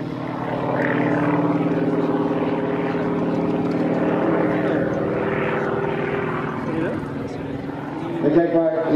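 At an airshow, an aircraft with a nine-cylinder radial engine drones with a steady, throbbing, harmonic-rich roar that swells and holds, loud and fairly close, with a voice talking over it.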